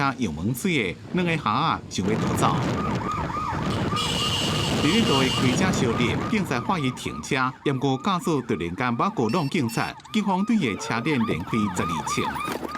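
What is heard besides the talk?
police car siren during chase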